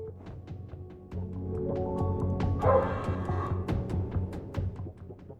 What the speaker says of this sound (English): we heard a little buzzsaw go off and a bark